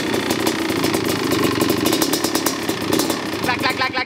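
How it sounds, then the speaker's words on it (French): A motorcycle engine idles with a rough, rattling mechanical knock from the piston, steady and close, with a voice talking over it. "Ça fait vraiment un bruit de ferraille dedans."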